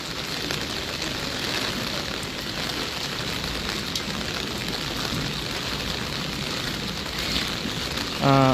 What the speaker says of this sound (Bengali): ভারী বৃষ্টি কিন্তু হচ্ছিল এখন কিন্তু একটু হলেও কমেছে